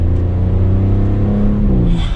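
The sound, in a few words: sports sedan accelerating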